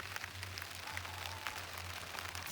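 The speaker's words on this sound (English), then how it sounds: "The rain is actually falling right now and I'm so happy about it." Light rain patters steadily onto a dahlia garden in Eastern Ontario, Canada, a soft, faint scatter of drops over a constant low hum, with no voices.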